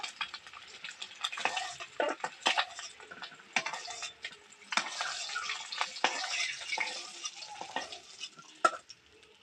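Fried eggs are lifted out of a pan of hot oil, with a spatula scraping and knocking against the metal in sharp, irregular bursts over a faint sizzle. Nobody speaks.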